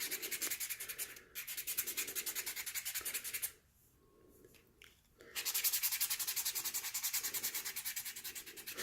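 A polymer clay cabochon is wet sanded with water-dipped sandpaper in fast, even back-and-forth rasping strokes, close and steady. The strokes pause for a couple of seconds, then resume louder.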